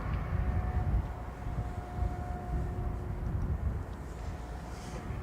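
A Ryanair airliner departs Dublin Airport for Hamburg on a windy day, giving a steady distant jet roar with a faint engine whine throughout.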